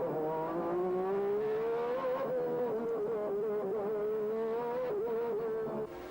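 Formula 1 race cars from the 1991 season, two Williams cars running nose to tail, one engine overheating; a loud, continuous high-pitched engine scream with slowly rising and falling pitch, close and steady, without talk.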